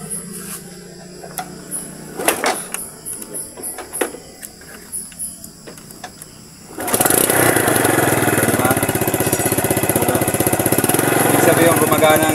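After a few quiet kicks, clunks and nearby voices, a motorcycle with a battery that isn't charging and has been taken out of the circuit fires up and settles into a loud, continuous running clatter.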